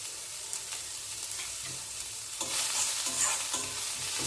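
Buttermilk chilies fry in a pan with a steady, close crackling sizzle and stirring scrapes, growing louder and denser partway through, with no talking.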